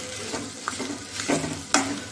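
A spoon stirs mutton curry with a handful of fresh coriander leaves, giving a few close scraping strokes over a low, steady sizzle, with no voices.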